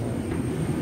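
Steady low droning roar inside an airplane cabin, constant and moderately loud with a faint high whine above it, no voices.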